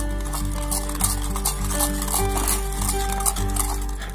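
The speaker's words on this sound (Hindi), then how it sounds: "अब हम इसको अच्छी तरह से मिक्स करेंगे।" A spoon stirring instant coffee powder with hot water in a cup for homemade cappuccino, steady repeated scraping and clinking strokes against the vessel over a continuous background hum.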